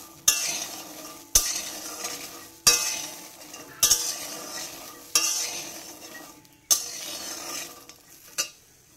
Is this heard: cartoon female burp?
no